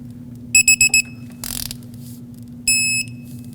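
A ratchet wrench torques a bolt on the VVT solenoid bracket of a Lexus IS250 to 7 foot-pounds: a short burst of ratcheting between sharp, loud electronic beeps, close up.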